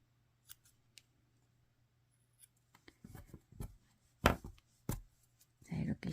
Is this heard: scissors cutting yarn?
yes